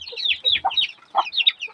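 Chickens and chicks at feeding time cluck and peep over and over, close and fairly loud, with short bright calls overlapping in an irregular rhythm.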